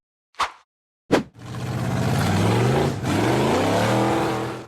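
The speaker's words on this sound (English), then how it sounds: "The white-framed off-road vehicle roared fiercely as it attempted to climb a sheer cliff face" A white-framed off-road vehicle attempting a sheer cliff climb: two short bursts, then the engine roars loudly and continuously, revving with rising and falling pitch and a brief dip midway.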